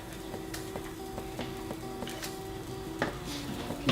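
Grits being stirred in a pan beside cooking sausages, a soft steady scraping with light metallic taps repeating through a low background sizzle, no voices.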